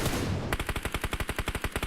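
Rapid automatic gunfire in PUBG Mobile, a fast even burst of about twenty sharp close shots following a short rush of noise, loud and with no voices.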